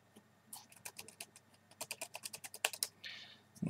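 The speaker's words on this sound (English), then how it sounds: "And you can start typing away." Keys clack on a keyboard connected to an iPad Mini 4, a quick run of crisp, close taps in irregular bursts, with a short scuffing sound near the end.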